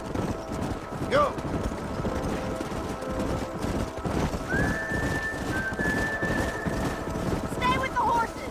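Horses gallop through a narrow canyon in a Western chase, hooves clip-clopping steadily under wind and ambient noise, with a brief whinny early on and another near the end while a whistle-like tone rings out midway.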